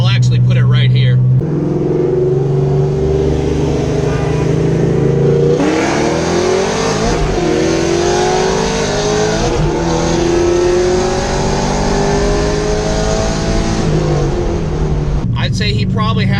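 Modified fifth-generation Chevrolet Camaros racing, a loud engine roaring as it accelerates hard through rising gear pulls with brief shift breaks, filling the whole stretch with steady engine noise.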